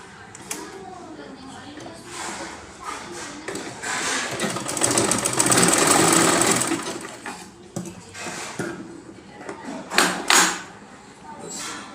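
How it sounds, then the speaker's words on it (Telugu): Sewing machine stitching pleats on a pair of shorts, whirring in short bursts with a longer loud run in the middle, close by, while someone talks between and over the stitching. "దీన్ని ఒక ప్లీట్స్ లాగా ఇట్లా కుట్టుకోవాలి"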